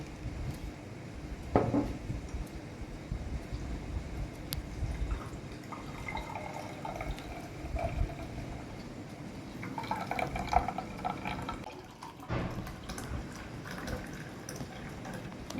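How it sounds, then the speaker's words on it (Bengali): Watermelon juice strained through a cloth, with soft, steady trickling and dripping of liquid into a container alongside faint clinks of kitchenware, all close by and fairly quiet. "একটা কাপড় নিয়ে নিয়েছে এটাকে এবার এর মধ্যে ছেঁকে দেবো"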